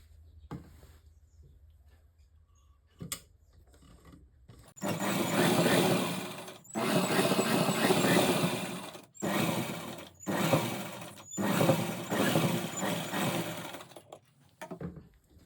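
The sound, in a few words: sewing machine stitching a palazzo pant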